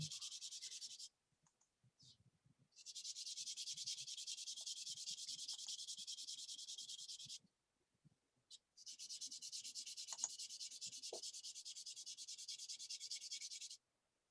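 Sanding Mr. Surfacer filler on a scale model, two long steady bouts of close, even sandpaper rubbing separated by a short pause with faint clicks, quiet and without any talk.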